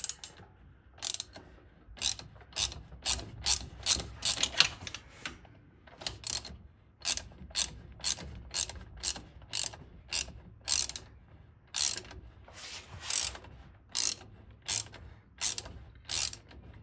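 A hand ratchet wrench works a bolt on an IROC car, clicking in steady rapid bursts of pawl ratchets with short pauses between strokes, close and fairly clear, no talking.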